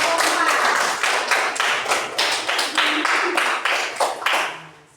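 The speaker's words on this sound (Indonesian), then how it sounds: "Ya, tepuk tangan untuk kelompok 4." A classroom audience claps for a group that has just finished presenting, a dense run of hand claps continuing steadily for several seconds before tapering off at the end.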